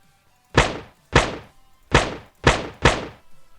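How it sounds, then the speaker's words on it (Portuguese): A gunshot sound effect fires five times in a Pygame shooting game being programmed in Python, each a sharp, punchy burst with a quick decay, spaced unevenly about half a second apart and heard alone. "Quando eu clicar aqui, o que deve acontecer é a gente ouvir um barulho de tiro."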